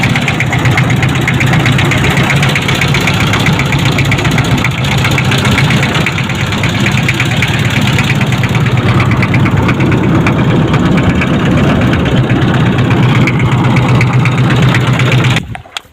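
A fishing trawler's engine idles on a river in a loud, steady, close mechanical drone that runs unbroken for about fifteen seconds and then cuts off abruptly.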